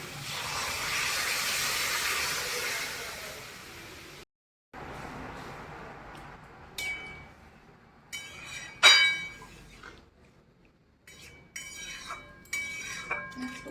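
A pot of moong dal with papaya comes to the boil, a soft steamy hiss at first, then after a pause quiet bubbling with sporadic clinks of a spoon or lid against the pot.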